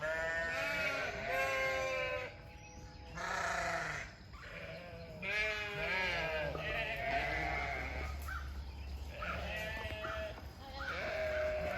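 Sheep bleat repeatedly, several overlapping calls rising and falling close by, with a low rumble of wind or movement underneath.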